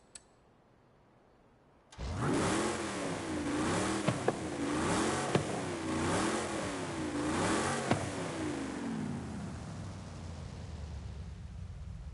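A car engine in Forza Horizon 5 bursts into life after near silence and revs hard several times in quick rising-and-falling sweeps, loud and close, then settles toward a steady idle.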